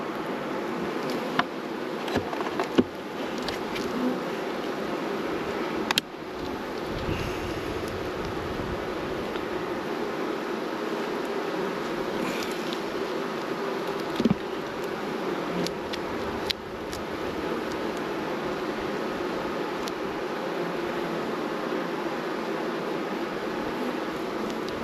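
Honey bees buzz steadily around Langstroth hive frames during a nuc split, a dense, continuous drone close by with occasional louder individual passes and faint handling knocks.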